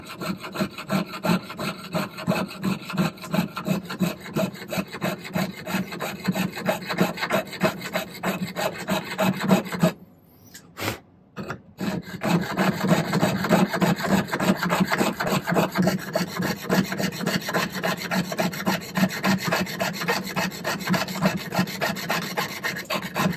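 A fine saw cuts metal for a silversmith's pendant, making fast, even rasping strokes close up. The strokes pause briefly midway, then resume at the same pace.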